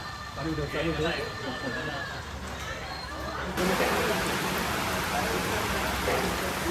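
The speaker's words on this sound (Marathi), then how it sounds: "पावसाचा देखील जोर वाढलाय" Heavy rain pours down steadily outdoors, a dense broadband hiss that grows louder and thicker partway through, with people talking over it.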